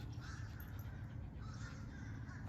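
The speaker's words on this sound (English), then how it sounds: "I'm sorry, I got distracted by those birds." Crows caw on a farm, a few harsh calls carrying at a moderate distance over a low, steady background rumble.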